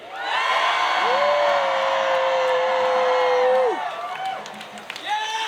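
A large crowd at a Black Lives Matter protest in Portland, Oregon screams and cheers, a loud, sustained roar with one piercing held shriek above it for several seconds before the noise drops off and swells briefly again.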